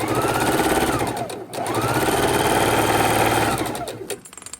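Sewing machine stitching quilt seams for a Christmas quilt, running in a steady, close, fast mechanical whir with a brief pause midway before picking up again and slowing toward the end.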